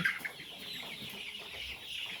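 Colour-bred broiler chicks, grown to about 700 grams on grower feed, cluck softly and steadily at close range. The calls run on and overlap for the whole stretch with no talk.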